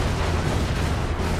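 Explosions in the video game Crackdown 2 form a dense, continuous roar of booms and blasts, loud and sustained with no speech over it.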